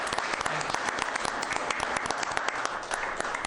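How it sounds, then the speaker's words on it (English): Steady applause at a city council meeting honoring police department work, many hands clapping in an even, continuous patter from nearby without a break. "I want to applaud you"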